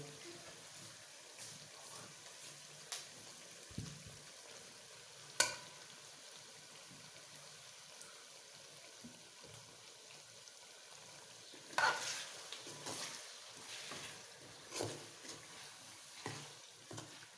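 Ginger and garlic sizzle and fry in a pan with pumpkin and chicken, a steady soft crackle broken by occasional stirring clinks and scrapes, heard close and moderately quiet with no talk.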